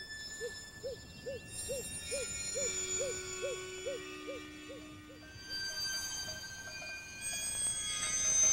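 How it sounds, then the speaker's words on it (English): A great gray owl in northern Scandinavian woods gives a series of about a dozen soft, evenly spaced low hoots, moderately near, over a quiet background with faint birdsong and hiss. "The great gray owl is a year-round inhabitant of these northern woods."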